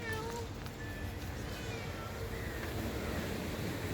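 Several short cat meows, somewhat distant, over a steady outdoor background hum.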